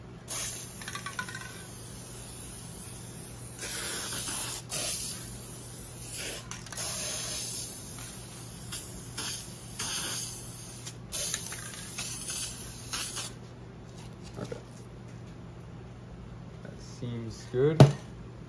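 A spray can lays a coat over a spray-paint artwork, with a long, continuous hiss broken by short pauses, then it falls quiet with a few soft handling clicks at the end.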